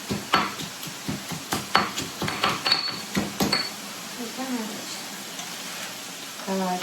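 Ground beef mixture sizzling and frying in a pan while being stirred, with repeated scraping and clinking of a utensil against the pan, close and fairly loud, followed by softer sizzling.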